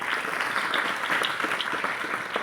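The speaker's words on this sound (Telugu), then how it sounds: "శ్రావణ్ సార్కి ఒకసారి గట్టి క్లాప్స్ కొట్టచ్చు." A school audience claps loudly and steadily for a teacher during an inspire-and-ignite program at a government high school, dense applause sustained throughout with no talk over it.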